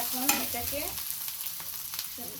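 Garlic, onion and a bay leaf frying in a pan, a steady soft sizzle with light stirring scrapes throughout, while a voice speaks briefly at the start and again near the end.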